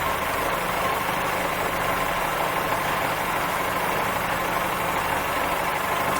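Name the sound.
train engine idling in Train Simulator 2016 video game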